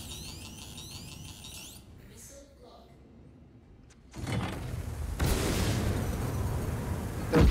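Missile explosions in Star Citizen, a MISC Reliant Tana firing missiles, with a muffled rumbling blast building into sustained loud booming roar, preceded by quieter ship ambience and an alert tone, with talk in between.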